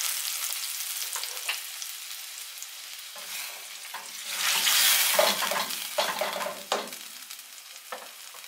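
Salsa sizzles in vegetable oil in a frying pan over medium heat, a steady crackling fry broken by scraping stirs that swell louder midway, with no talking.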